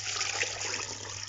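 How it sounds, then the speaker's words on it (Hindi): Water pours steadily into a cooking pot for beef karahi, a continuous splashing gush with no pauses. "इसमें हम पानी ऐड करेंगे 2 लीटर"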